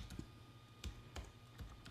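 Keystrokes on a computer keyboard while entering commands to configure a Raspberry Pi: a handful of sparse, quiet clicks spread irregularly across two seconds, with no voices.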